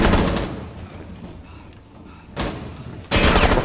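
Gunfire in the video game Rainbow Six Siege, loud bursts of rapid shots at the start and again near the end with a quieter stretch between.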